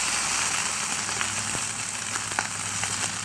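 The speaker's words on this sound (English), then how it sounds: "look at that bacon sizzle" Turkey bacon sizzling hard in a hot frying pan for a breakfast sandwich, a continuous loud hiss and crackle with scattered pops, close up and steady, with no talking.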